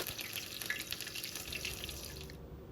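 Curry leaves and whole spices crackle and sizzle in hot oil for paneer butter masala, a dense, fizzing hiss with scattered small pops, close and fairly quiet.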